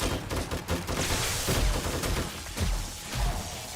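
Automated turrets in the survival game 7 Days to Die fire rapid bursts of gunfire, a dense crackling fusillade with heavy low thumps that holds steadily loud for several seconds.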